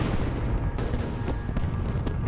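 A 40-gun cannon battery fires repeatedly in a Napoleonic battle, sharp booms bursting out of a dense, continuous low rumble of gunfire and explosions, loud and unbroken for the whole stretch.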